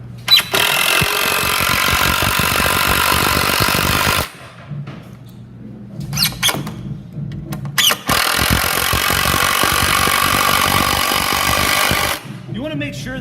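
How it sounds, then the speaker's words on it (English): A power drill driving 3-inch screws into a board while building a platform, two loud sustained whining runs of several seconds each separated by a quieter gap with handling clatter and speech. "adding 2 3-inch screws on each side"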